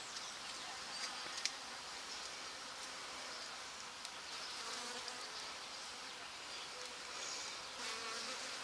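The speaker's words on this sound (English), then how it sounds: "We need to feed the bees." Steady, dense buzzing of many bees, close and continuous, with faint rustling and no talking.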